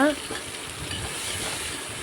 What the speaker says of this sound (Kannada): ಆ ಮೂಲಂಗಿನ ಕೂಡ ಇದಕ್ಕೆ ಸೇರಿಸ್ಕೊತಾ ಇದ್ದೀನಿ ಎಣ್ಣೆಯಲ್ಲಿ ಸ್ವಲ್ಪ ಫ್ರೈ ಮಾಡ್ಕೊಳ್ಳೋಣ ಅಂತ